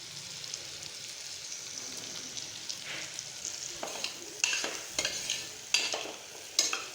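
Bitter gourd and egg frying in a pan on the stove, a steady sizzle with intermittent scraping and stirring clatter growing louder toward the end.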